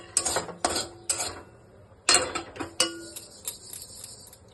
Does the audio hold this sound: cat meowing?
no